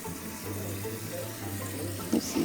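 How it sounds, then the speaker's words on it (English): Water runs steadily into a Costway twin tub washing machine tub with a constant rushing hiss and a low hum underneath, ending with a couple of small knocks. "Fill with water to desired height."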